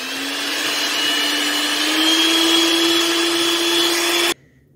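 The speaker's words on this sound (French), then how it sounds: "Je monte avec le sucre mes blancs d'œufs." Egg whites with sugar are beaten by an electric mixer, a steady loud motor whine rising slightly in pitch as the whites stiffen, running continuously for over four seconds before cutting off abruptly into near silence.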